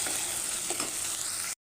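Onions and tomatoes frying in a pan while being stirred, a steady close sizzle with a few soft spatula scrapes near the middle, alone and cutting off abruptly before the end.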